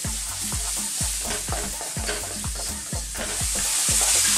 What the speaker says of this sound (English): I'm going to cook this on a fairly high heat just for like 2 minutes